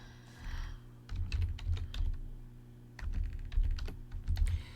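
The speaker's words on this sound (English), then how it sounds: "So we're typing up" Typing on a computer keyboard, close and steady, with bursts of key clicks in quick runs separated by short pauses over a low hum.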